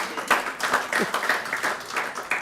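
Audience at a university excellence awards ceremony applauding, a dense, steady patter of many hands clapping at moderate distance, continuous for a couple of seconds.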